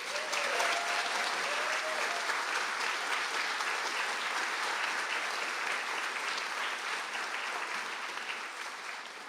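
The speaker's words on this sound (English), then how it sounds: "I now ask the students of the BA in Contemporary Art Practice to stand for a round of applause." Sustained applause fills a hall at a conferring ceremony in Mayo as graduating art students stand, a thick, even wash of many hands clapping that carries on and slowly softens.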